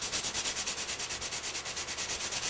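Sandpaper lightly rubs discoloration off a metal shaft, a rapid, even back-and-forth scratching with steady rhythm, close and fairly quiet, alone.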